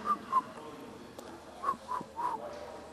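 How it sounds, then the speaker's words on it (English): A person whistles short notes in a loose rhythm: two quick tones, a pause, then three more, the last one held longer, close and fairly clear over a quiet room. "I can whistle."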